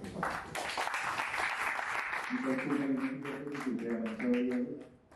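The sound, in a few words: audience applause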